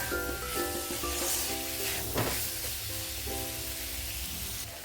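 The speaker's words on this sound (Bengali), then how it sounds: "তো মশলার সঙ্গে ছোলেটা ভালোভাবে কষিয়ে নিয়েছি।" Chickpeas cooked down with spice masala sizzle quietly in a pan, a soft steady hiss with a brief stir or scrape near the middle, under faint background tones.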